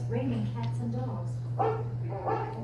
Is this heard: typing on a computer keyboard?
no